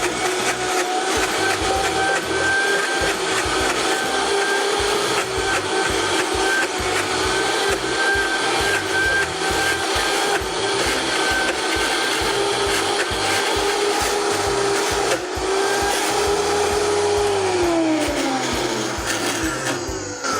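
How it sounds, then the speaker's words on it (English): Blender running loud and close as it purees sunflower seed pate, a continuous grinding whir with a shifting motor pitch that winds down near the end, no talk. "We're going to close up our blender,"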